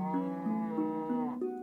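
Cow mooing in the block-building game Better Than Adventure, a few drawn-out, tonal moos in quick succession, close and clear with no talking.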